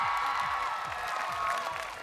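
Studio audience on a live Indonesian TV music show clapping steadily as a dense, continuous wash of applause with no voice over it.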